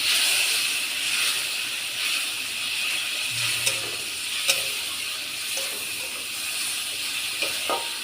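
Spice paste with tomato and a splash of water hisses and sizzles steadily in a pan, with occasional clinks and scrapes of stirring over the continuous bubbling, close up and with no talk.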